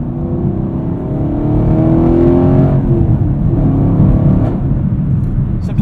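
A 2018 Chevrolet Camaro 2SS V8 with a six-speed manual gives a loud, close exhaust drone that rises under acceleration and then eases off as the revs fall.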